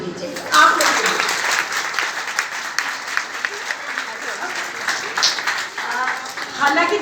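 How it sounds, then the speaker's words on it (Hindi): An audience at a school Mother's Day celebration in Jaipur breaks into loud, sustained applause, with dense clapping over a crowd murmur lasting the whole stretch. "अब एक बार आप लोगों के लिए बहुत जोर से ताली बजनी चाहिए"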